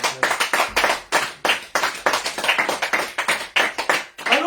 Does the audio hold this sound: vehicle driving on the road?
no